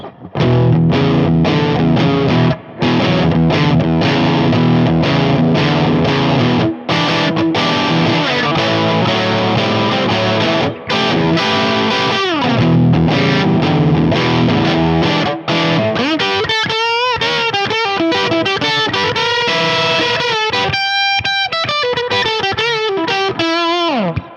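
A distorted electric guitar plays loud, compressed chords and sustained notes through the blues channel of a Mesa Boogie Express Plus 5:25 tube amp, ending with bending, vibrato-laden lead lines.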